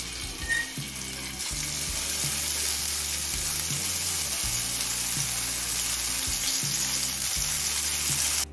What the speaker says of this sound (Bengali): এবার একই রকমভাবে অন্য করলাগুলোকেও ভেজে নেব।